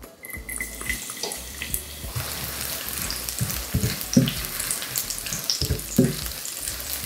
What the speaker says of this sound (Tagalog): Magigisa lang muna tayo. Ilalagay ko na dito yung bawang.